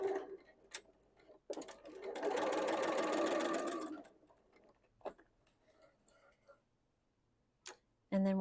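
Sewing machine stitching quilt table runner pieces, a steady buzzing run of about two seconds between a few soft clicks and handling sounds, with brief speech near the end.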